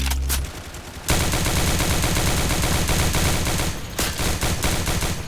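Rapid, sustained bursts of gunfire from a Counter-Strike style shooter game played in Roblox, loud and dense, with a short lull at the start and a brief break near the end.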